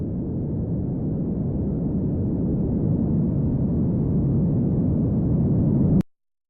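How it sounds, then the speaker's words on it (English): A deep, muffled, continuous roar of a tsunami wave approaching from far away, steady and low-pitched, cutting off abruptly near the end. "At first, we hear the wave approaching from far away."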